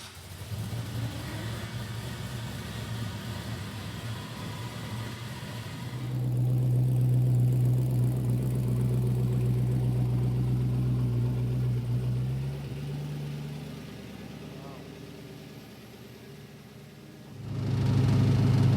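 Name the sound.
1959 Chevrolet El Camino engine running on a dyno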